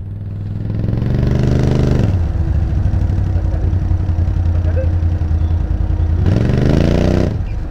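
A Yamaha 450 WRF enduro dirt bike revs hard and loud close by, its engine climbing in pitch, holding a steady high roar, then rising again near the end.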